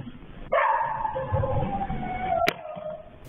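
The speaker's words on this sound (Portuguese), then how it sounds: "Cachorros de imóveis vizinhos ainda latem" Dogs in neighbouring houses bark in one sharp, drawn-out burst, followed by a brief sharp crack, heard at moderate loudness with no talking.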